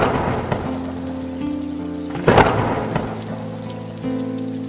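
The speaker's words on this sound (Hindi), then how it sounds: "और बारिश शुरू हो गई।" Rain begins to fall during a storm, a steady wash of rainfall with a brief louder rumbling surge near the middle, set beneath soft background music.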